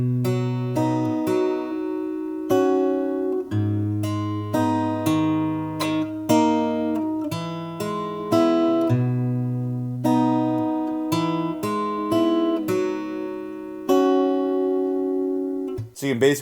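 Acoustic guitar strums the chord progression of a song slowly, each chord ringing out in a steady pulse, close and clear, ending with a brief soft knock.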